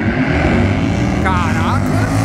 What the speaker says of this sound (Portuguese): Tá metendo um burnoutzão